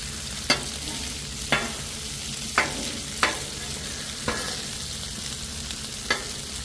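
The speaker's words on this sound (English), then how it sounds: "I'm going to let them cook until they get nice and crispy." Hash browns fry on a Blackstone flat-top griddle with a steady, close sizzle, broken by about six sharp scraping clicks at irregular intervals as a spatula works the potatoes.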